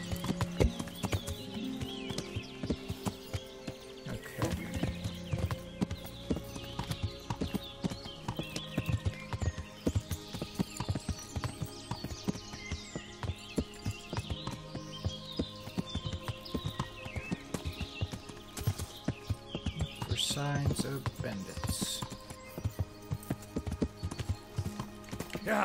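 A horse in the video game Kingdom Come Deliverance trots along at a steady rhythm, its hooves clip-clopping continuously and fairly close, with occasional louder thuds over a low background.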